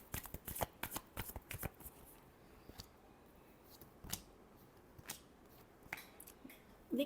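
A deck of playing cards is shuffled in a series of sharp riffling bursts, several quick runs close together early on and then a few isolated snaps and riffles, close and clear with no talk.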